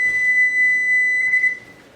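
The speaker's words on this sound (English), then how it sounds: "There's my timer." A kitchen timer in a home kitchen where strawberry rhubarb and blackberry jam is being canned gives a steady, loud electronic beep for about a second and a half, then falls silent with no talk over it.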